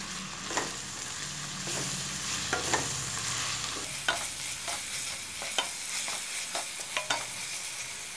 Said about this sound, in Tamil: இடித்து வச்சுருக்க 200 கிராம் சின்ன வெங்காயத்தை சேர்த்துக்கிறோம். இதையும் நல்லா வதக்குறோம்.